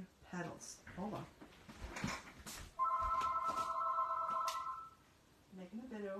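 A landline telephone rings indoors during a card-stamping craft session, heard as a steady electronic trill lasting about two seconds between stretches of talk and rustling.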